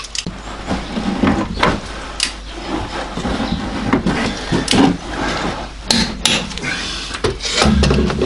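Lug nuts on a Hyundai Santa Fe wheel being torqued with a torque wrench during a wheel bearing replacement, giving repeated sharp metallic clicks and knocks over steady ratcheting and shop noise.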